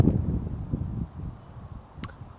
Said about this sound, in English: It's a little windy out, so I don't know if you can hear me